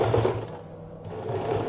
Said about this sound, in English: I'm going to stitch directly over the top of that